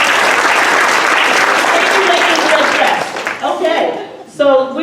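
A hall audience applauds in a loud, dense burst that fades after a few seconds, followed by a voice speaking.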